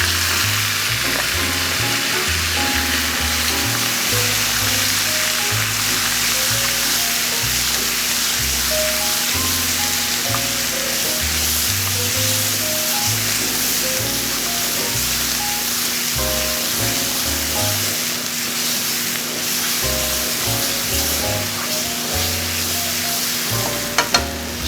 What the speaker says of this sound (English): So we're gonna let all this thing fry.